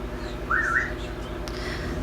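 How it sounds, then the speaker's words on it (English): A pet bird in the background gives one short, clear whistle that rises and falls, set against steady low indoor hum, with no talking. "You can hear my bird whistling in the background."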